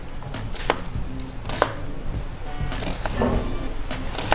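Vegetables are coarsely chopped on a board for a chicken recipe, with a knife striking in an uneven rhythm of several distinct chops over a low kitchen background.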